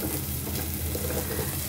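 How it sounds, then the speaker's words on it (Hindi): Onions sautéing in a pan for hotel-style tomato soup, a dense continuous sizzle with faint stirring, steady and close throughout, no voices. "प्याज को ज़्यादा हमने पकाना नहीं है, थोड़ा सॉटे करना है बस"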